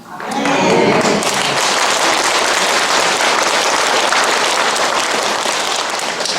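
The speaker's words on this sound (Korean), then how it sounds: "아, 네, 박수 치고 난리요?" An audience bursts into applause at a Catholic martyrs' shrine gathering, dense clapping swelling within the first second and holding loud and steady to the end.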